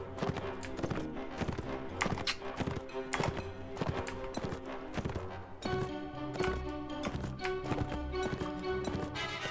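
Horses gallop in Mount and Blade Warband, their hooves drumming in a fast, continuous clatter that stays close and loud amid battle noise.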